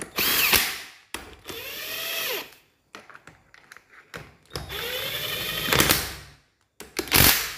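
Impact wrench tightening the bolts on a Neotec clutch reservoir, several loud close bursts of whirring and rattling hammering separated by short pauses, with faint clinks between.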